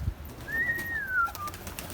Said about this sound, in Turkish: Güzel yeni kuşlar aldık.